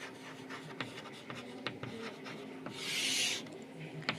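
Chalk or marker scratching across a board during a calculus lecture on types of functions, with short taps and strokes and a longer rasping scrawl near the end, fairly close and quiet, no talk over it.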